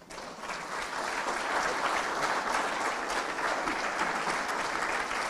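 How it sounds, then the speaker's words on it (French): An audience applauds a speaker at a French-language event with continuous, even, fairly loud clapping from many hands that holds steady throughout. "On peut l'applaudir."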